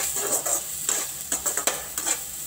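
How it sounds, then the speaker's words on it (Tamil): Green chillies, dried red chillies and a small piece of tamarind sautéed in a pan, sizzling steadily under repeated scraping strokes of a spoon against the metal. "இதையும் சேர்த்து நல்லா வதக்கிக்கோங்க."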